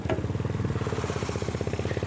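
A Yamaha FZ motorcycle cruising in fifth gear gives a steady, rapid, evenly pulsing engine beat, heard up close and fairly faint over a brief span, with no voices.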